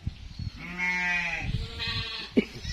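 A sheep at a farm bleats with a long, wavering call close by, followed by a second shorter bleat and some background rustling and thumps.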